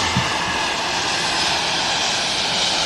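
An aircraft taxis past at Manchester Airport, its engine roar a steady, broad, loud wash heard from nearby and sustained throughout.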